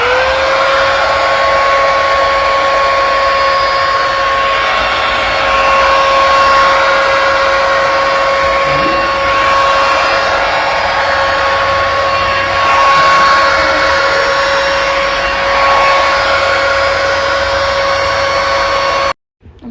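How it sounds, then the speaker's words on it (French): A classic hair dryer runs loud and close with a steady high whine and rushing air, holding one even pitch for nearly twenty seconds before cutting off abruptly. "Donc là je vous montre le sèche-cheveux classique."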